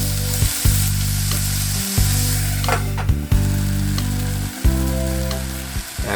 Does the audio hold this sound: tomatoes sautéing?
yes